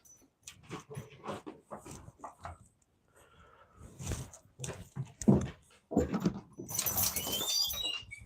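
A pet dog whimpers and whines at home before being let outside, soft intermittent cries spread across several seconds, ending with a bright jingling like keys or a tag.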